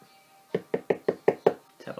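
A makeup brush rapped against a hard surface to shake off excess product, giving seven quick, close knocks in an even rhythm.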